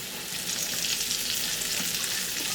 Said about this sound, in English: Then we're going to add our chopped mushrooms.